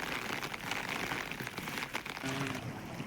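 Heavy rain in Rajasthan after weeks of humid heat, a dense steady hiss of drops pattering on surfaces, close and continuous with no talk.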